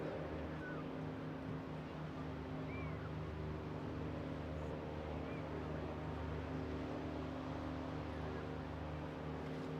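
A Westland Wasp helicopter's Nimbus engine gives a steady, droning whine with a constant tone, holding at an even level throughout over a low rumbling background, at an air festival.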